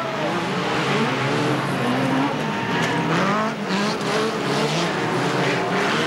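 A BriSCA Formula 1 stock car scoots ahead after contact at Boston in 1991, its engine revving loudly amid the racing pack, with brief tyre squeals and a steady roar of other cars.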